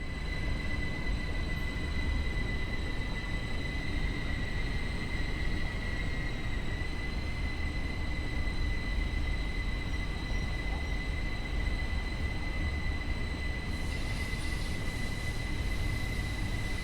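In the Train Sim World game, a Bernina Allegra electric train rolls steadily under light power while shunting at Tirano, giving a continuous rumble with faint steady electrical whine and occasional wheel noise.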